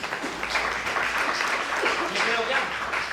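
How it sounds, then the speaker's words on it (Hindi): Loud, dense applause from a seminar audience at a network marketing training session in Meerut, steady crowd clapping filling the whole stretch with some voices mixed in. "जोरदार तालियां"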